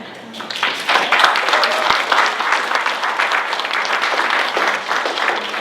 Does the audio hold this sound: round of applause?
yes